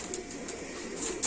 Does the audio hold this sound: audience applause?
no